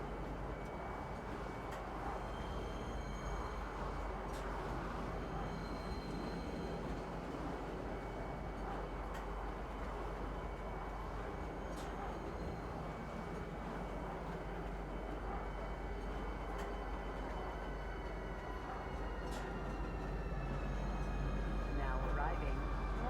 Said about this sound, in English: Now arriving. Lorville City Gates. Please watch your step when disembarking the train.